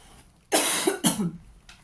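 Two harsh coughs in quick succession, close and loud, followed by a faint breath in a quiet room.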